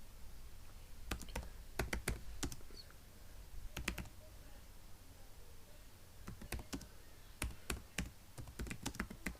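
Quiet keystrokes on a computer keyboard while a document is typed in OpenOffice Writer, coming in short uneven bursts of clicks separated by pauses, close and faint, with no talking.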